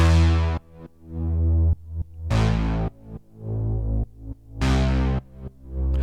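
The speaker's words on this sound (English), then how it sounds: "And then we'll just hear the synth, which now sounds like this." Synth notes pumping through a compressor sidechained to a muted kick drum, rising in loud bright swells then ducking abruptly in a steady rhythmic pattern, alone with no voices.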